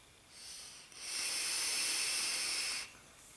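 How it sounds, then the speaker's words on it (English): Vaping on a Sense Herakles V2 sub ohm tank with a 0.4 ohm Kanthal coil at 70 watts and open airflow, heard as a soft, steady airy hiss of a long inhale lasting about two seconds. "So I'll take it for another vape and let you see the vapor production on it."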